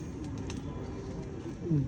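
Champion pigeon giving a low, soft coo near the end of a short stretch, faint and close, over quiet background murmur.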